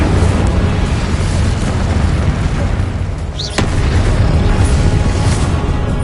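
Incendio fire spell in Hogwarts Legacy, a continuous roaring whoosh of flame held loud and steady throughout, with a short bright flick near the middle and no pause.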